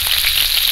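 Panch phoron (Bengali five-spice) sizzles in hot oil: a brief, dense, even frying hiss heard up close with no speech.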